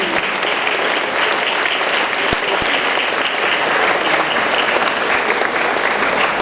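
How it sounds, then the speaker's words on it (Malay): Warm applause at a ceremony honouring the staff of an Islamic primary school, a dense, sustained crowd clapping that holds steady and loud from start to finish, with no talking. "berikan tepukan gemuruh untuk Sekolah Rendah Islam Cahaya Umi"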